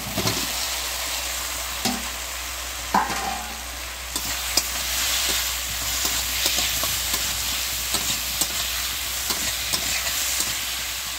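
Jackfruit pieces tipped into a sizzling pan for a vegetarian echor kosha, a clatter as they drop in, then a loud continuous frying hiss with repeated stirring scrapes, close up and without speech.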